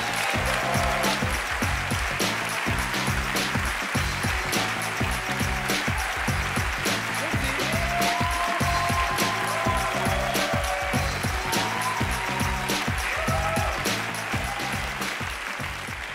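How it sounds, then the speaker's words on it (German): Audience applause at the Swiss Comedy Awards, a dense, sustained clapping that fills the hall, loud and steady throughout, tapering slightly near the end. "Großen Applaus für Jacqueline Badran."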